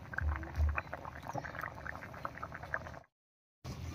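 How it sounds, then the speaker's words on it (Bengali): Curry broth coming to a boil in a pot, with soft bubbling and gurgling, quiet and close, briefly cutting out near the end; no talking. "ঝোলটা বলক উঠে গেছে।"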